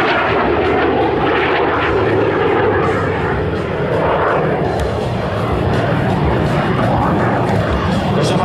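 A formation of three TS-11 Iskra jet trainers passes overhead at an air show in Poland, a loud continuous roaring engine wash that swells and fades slightly, with no speech over it.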